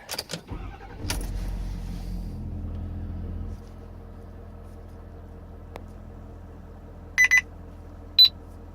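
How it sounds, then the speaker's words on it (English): A truck engine cranks and catches, then settles into a steady low idle with a loud start burst, followed later by a few short electronic beeps. "I'm gonna start the truck."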